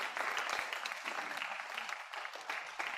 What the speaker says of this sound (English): So please help me clap for these people for doing this.